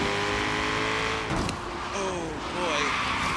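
All-wheel-drive Hot Wheels Catapult car racing in Forza Horizon 3, its engine droning loud and close with shifting revs and a brief dip midway, while a person talks over it.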